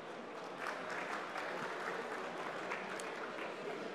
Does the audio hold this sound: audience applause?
yes